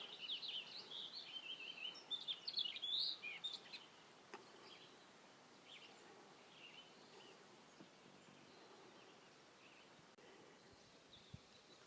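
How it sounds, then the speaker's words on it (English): Bright, high bird chirps and short song phrases in the first few seconds, then a quiet outdoor hush with faint scattered calls, on San Gorgonio Mountain above the tree line. "The only sounds are the birds."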